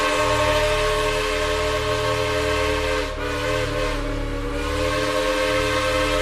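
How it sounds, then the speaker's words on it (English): A steam locomotive whistle wails in a long, steady, harmonic tone that holds for the full six seconds, loud and continuous with only a slight dip midway, with no voices present. "The long, lonesome wail of a steam whistle."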